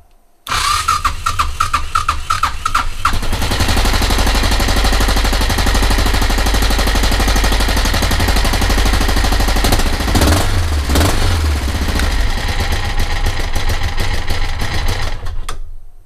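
A Suzuki DR motorcycle engine, just restarted after work on it, runs loud and close with a fast, even rapid-fire putter, holding steady for the length with a brief dip in the middle, no talking.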